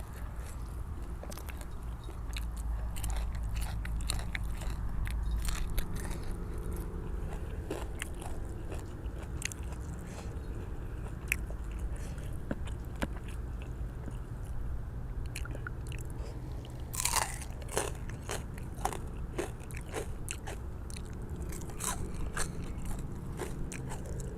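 Crispy Thai pork belly is bitten and chewed up close, giving repeated crunchy bites and crackles over a low background hum with no talking.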